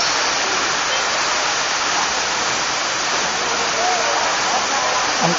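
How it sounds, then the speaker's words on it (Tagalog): Katibawasan Falls pours in a steady, dense roar of falling water, loud and unbroken throughout with no other sounds standing out. "Ito po yung Katibawasan Falls."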